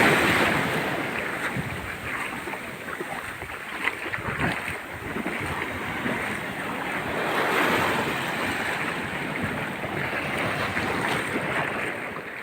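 Ocean waves at Om Beach in Gokarna, Karnataka, wash and roar steadily and close by, with wind buffeting the microphone and no talk.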